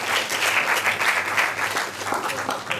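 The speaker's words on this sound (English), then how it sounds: "Let's clap for the LOC for the synergy" Audience clapping at a national conference, a steady, dense round of applause from a large crowd, fairly even in loudness throughout with no clear speech.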